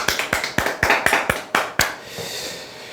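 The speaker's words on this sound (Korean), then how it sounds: "박수 한번 치시죠." Audience clapping at a sales and career talk, about eight distinct, sharp claps in an uneven rhythm that fade out after roughly two seconds, leaving a quiet room tone.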